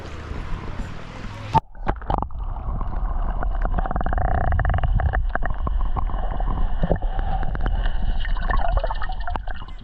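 Lake water heard with the microphone underwater: after a short burst of surface noise, there is a muffled, rumbling underwater wash with scattered clicks and taps throughout.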